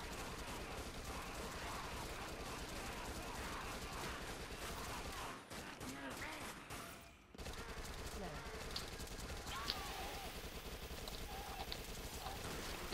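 Sustained rapid gunfire from an SMG blasting enemies in the zombie shooter game Dead Nation, a dense continuous barrage with a brief lull midway, loud throughout.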